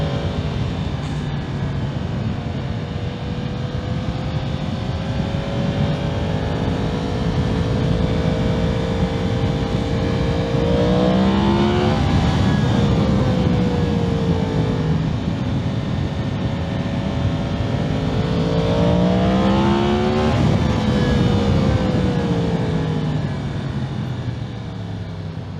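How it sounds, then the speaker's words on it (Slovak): Yamaha MT-10 SP motorcycle engine droning steadily throughout, with two strong throttle rises and upward pitch sweeps as it accelerates, heard close from the rider's position over constant wind rush. "to len otočím plynom na tejto motorke a už aké rýchlosti sú tam"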